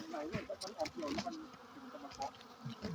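Bees buzzing around a wild bee nest outdoors, a close, wavering drone that rises and falls, with a voice speaking over it.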